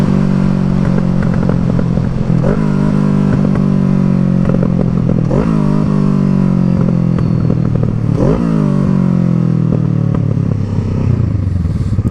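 A motorcycle engine burbles loudly and close through its exhaust, a steady throbbing rumble with several brief revs and gear changes while riding, with no talking.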